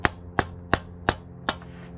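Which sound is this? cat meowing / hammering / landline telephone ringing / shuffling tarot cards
hammering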